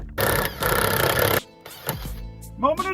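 A jigsaw cuts a drain hole for a sink through a cabinet top in a van build, giving a loud, dense buzzing burst for about a second, then stopping; brief handling noises and a faint voice follow.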